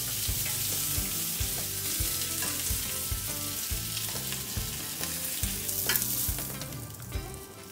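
Prawns fry in a hot pan, with a steady, dense sizzle and crackle that runs throughout and is occasionally punctuated by soft stirring or shifting sounds, close up, with no voices.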